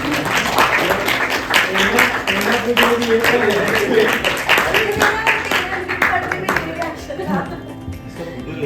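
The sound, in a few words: party crowd applauding runners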